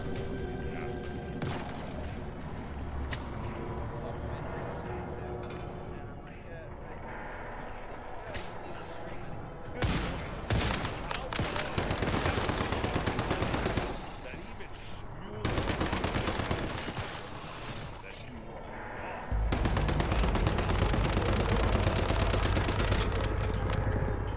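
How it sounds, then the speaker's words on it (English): Gunfire in the survival shooter Once Human: dense bursts of automatic fire and shots run loudly throughout, mixed with game effects, while a player talks over the action. "This gun does a lot of damage to him."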